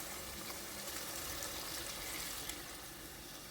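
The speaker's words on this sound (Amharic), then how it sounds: "አሁን ውሃዬን በዚህ አንድ ጨምራለሁኝ።" Boiled water is poured from a cup into a pot of whole lentils as they cook, a soft, steady stream of liquid with faint sizzling, quiet and continuous throughout.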